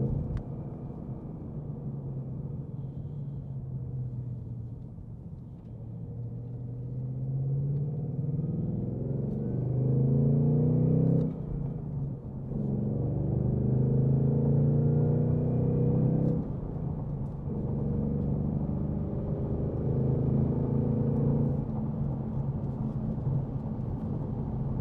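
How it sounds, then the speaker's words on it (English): A 2026 Mustang GT with a 5.0 V8, manual gearbox and Performance Pack, heard from inside while driving: a deep, steady engine drone that rises and falls with throttle, swelling louder in the middle, with no talk over it. "Got that nice grunt V8."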